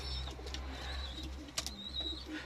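Soft, low cooing of pigeons in an enclosed space, quiet and continuous against a faint background hum.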